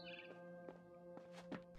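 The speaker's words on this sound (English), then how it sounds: "Then I heard chirping outside my window." A barn swallow chirps outside a window in What Remains of Edith Finch, giving a few brief, quiet chirps spaced apart over a steady low tonal hum.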